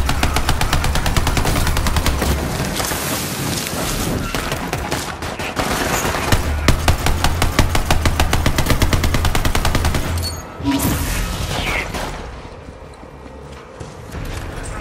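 Rapid automatic gunfire from a gun in Borderlands 3, loud sustained bursts of fast shots for about ten seconds, then a pause and a few scattered shots fading out.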